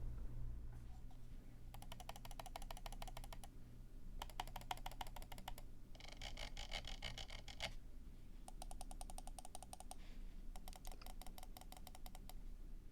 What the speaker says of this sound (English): get into a sound test here so you can hear these Wano 60 switches on mouse 1, 2, and the side buttons, as well as that 24-step optical scroll wheel